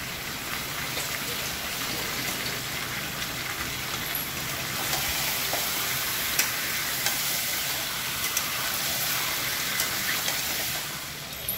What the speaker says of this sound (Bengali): আগে চিকেন পিসগুলোকে একটু ভালো করে ভেজে নেব